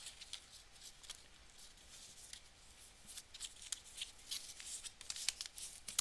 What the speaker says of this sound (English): I'm going to trim up this little bit of overhang of tape here